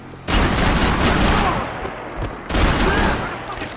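Sustained automatic gunfire rattles in Max Payne 3, a dense, loud fusillade of rapid shots with a brief lull midway before another heavy burst resumes, close and continuous.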